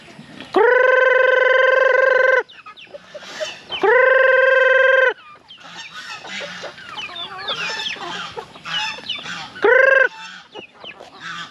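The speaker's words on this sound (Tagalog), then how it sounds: "yung mga manok, tawagin na rin natin" Chickens call loudly in two long, sustained squawks, followed by a busy stretch of overlapping clucks and chatter from several birds, with one more brief call.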